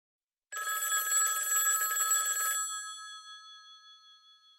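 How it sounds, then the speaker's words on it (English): An old-style telephone bell rings in one sustained, close, bright burst of about two seconds, then the metallic ring fades away into silence. "His thoughts are interrupted by the ringing phone."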